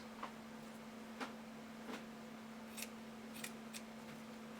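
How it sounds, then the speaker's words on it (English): Scissors trim through layers of sequin fabric for sewing panties, producing a run of sharp, separate snips at uneven intervals, close but faint over a steady electrical hum. "you go through your next layer and you trim it so that it's slightly longer than the first"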